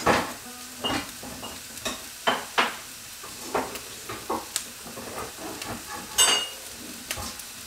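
Food sizzles gently in a pan on a home stove, with steady frying hiss broken by repeated clinks and scrapes of stirring, no voices.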